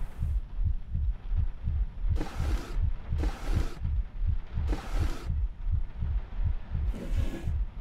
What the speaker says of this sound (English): I hear that heartbeat.